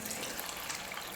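Water poured into a cup of basmati rice for vegetable biryani, a steady soft splashing trickle heard close up, quiet and without talk.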